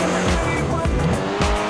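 A 1960s Lotus Elan sports car racing in Forza Horizon 4, its engine revving hard close by with tires squealing and skidding through a turn.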